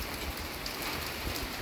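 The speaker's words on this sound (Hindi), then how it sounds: "और ये बारिश चेक करो।" Heavy rain falls in a constant, dense hiss, with scattered heavier splashes standing out now and then, close and steady, no voices.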